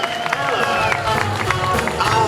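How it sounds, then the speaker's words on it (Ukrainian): An audience applauding in a hall, a dense steady wash of clapping from many hands mixed with crowd murmur and voices. "проважаємо їх буркливими оплесками до почесних місць у нашому залі"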